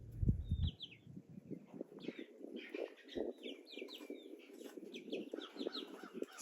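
Backyard chickens, including an Easter egger, clucking and chirping in a steady busy chorus close by, with a brief low thump at the start.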